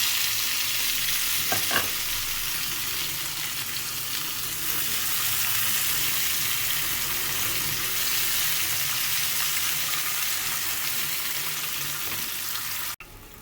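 Salted, chilli-coated potatoes and brinjal with cumin frying on a tawa, giving a steady, close, dense sizzle that runs unbroken for the whole stretch, with a couple of faint clicks and no talk.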